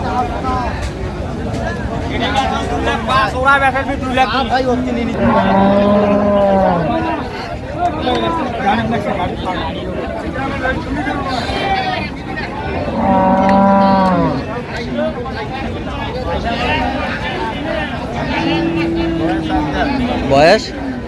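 Improved-breed dairy cows and calves moo repeatedly at a busy outdoor cattle market in Dinajpur, the long, loud calls rising over steady crowd babble and people talking nearby.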